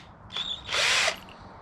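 A small drill bit spins up briefly into a Mugen shock absorber, then whines at full speed for about a third of a second before stopping; close and fairly loud.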